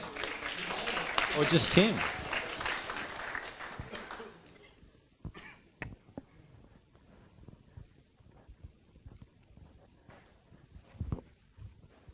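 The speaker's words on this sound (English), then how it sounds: "big round of applause, please." An evening event audience gives a dense burst of clapping that peaks early and fades out over a few seconds, then leaves scattered single claps and someone speaking briefly.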